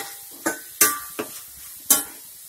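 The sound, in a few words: brinjal frying in coconut oil, sizzling and stirring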